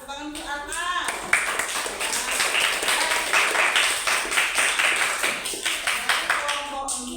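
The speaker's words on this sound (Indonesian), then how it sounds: "Ya, tepuk tangan di atas." A group claps in a steady rhythm, loud and close, with voices heard briefly at the start and end.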